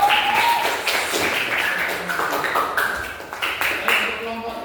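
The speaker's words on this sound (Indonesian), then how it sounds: "Kita beri tepuk tangan untuk kelompok 4." Clapping for a student group presentation in a classroom, scattered hand claps and taps at moderate level, tapering off unevenly, with voices and some ringing tones mixed in.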